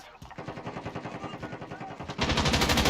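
Gunfire in the Call of Duty video game rattles in rapid, continuous automatic bursts, close and loud, growing even louder toward the end.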